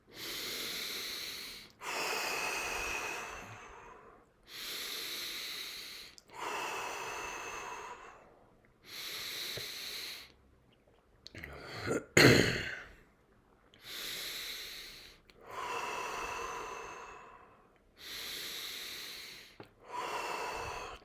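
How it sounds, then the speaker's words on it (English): Deep breathing exercise, with long, loud, airy inhalations and exhalations repeating in a steady rhythm, about eight full breaths close to the microphone, one with a sharper gasp. "Keep on breathing deep. Full breath in."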